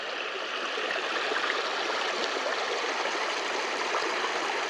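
The River Raise runs across a road at the bottom of a hill, a steady, even rush of shallow flowing water heard close and continuous without pauses or voices.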